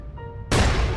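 A single cannon shot in the VR game MODBOX, a sudden loud blast halfway through after a quiet hum, followed by a rumbling tail.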